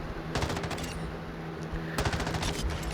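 Bursts of automatic fire from an M13B rifle in Modern Warfare 2, two clusters of rapid shots over a steady background hum, fairly quiet overall.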